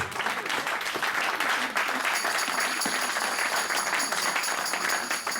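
A church congregation at a Sunday service claps and cheers in a steady, dense wash of applause that fills the room throughout, with a few voices mixed in.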